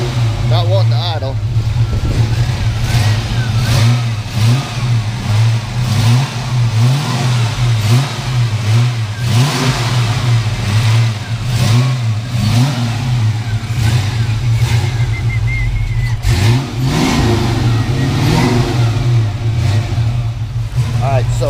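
Close, loud engine of a stock Ford Mustang Foxbody left sitting for two years, revving up and down continuously and refusing to settle into an idle, with people talking over the noise.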